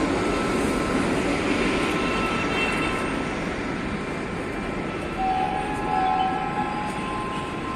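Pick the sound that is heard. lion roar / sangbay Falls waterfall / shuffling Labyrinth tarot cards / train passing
train passing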